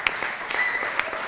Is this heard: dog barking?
no